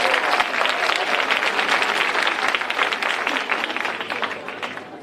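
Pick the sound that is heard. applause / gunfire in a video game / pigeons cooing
applause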